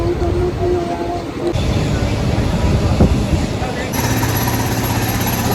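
A fast passenger train near Bandra rumbles along with a steady low roar and rattling, heard from a seat on board under a constant wash of noise; a short tonal hum fades partway through.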